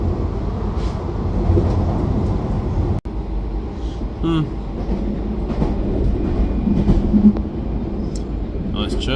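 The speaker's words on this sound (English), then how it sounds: "Choo choo, choo choo, choo choo." A train runs on rails in France, with a steady rumble and faint rhythmic clatter of wheels heard from on board. A voice speaks over it at times.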